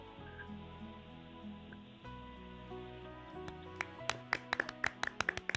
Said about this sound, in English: That was golf applause.